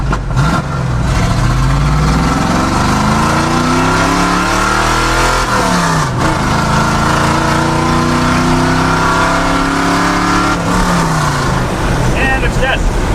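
A boat motor swapped into a truck roars through loud aftermarket mufflers, revving up and down repeatedly in a steady, heavy, close exhaust drone, with people talking over it.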